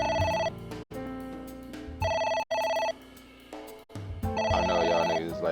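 A telephone rings insistently in the video game AI Somnium, a loud electronic ringtone in repeated bursts separated by short gaps, close and alone without talk.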